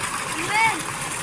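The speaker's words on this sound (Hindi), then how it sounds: "और ये चल रही है ट्यूबवेल यहाँ पे।" Water from a running tubewell pours and splashes in a steady, loud rush outdoors, with a voice faintly audible over it.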